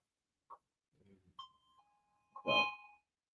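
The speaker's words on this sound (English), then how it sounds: "That's actually my first time hearing the doorbell." A doorbell chimes with a couple of ringing tones, mixed with a short bark-like sound and a few faint voice noises in a quiet room.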